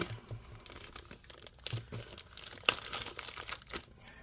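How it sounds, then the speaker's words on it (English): Packaging for a 15.3-inch 2023 Apple M2 MacBook Air A2941 replacement LCD screen assembly is torn open by hand: a run of close, crinkly crumpling and ripping bursts, with a sharp tear near the middle. "let's go ahead and just tear this open"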